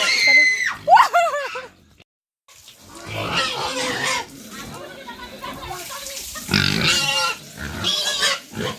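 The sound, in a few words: pigs in a pigsty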